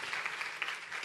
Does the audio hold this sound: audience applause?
yes